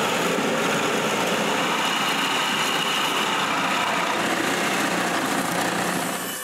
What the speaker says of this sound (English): on the drill press, I drill 1 1/4 inch hole directly on every bullseye